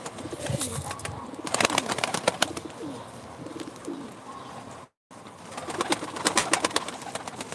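Pigeons coo softly and repeatedly amid fluttering and rustling, with a brief gap of silence partway through.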